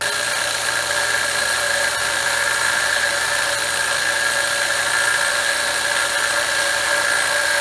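Steady, loud grinding hum from a bench grinder dressing down a collapsed hydraulic cam lifter, the lifter spun against the wheel's direction; a continuous high whine and rough buzz hold evenly throughout with no speech.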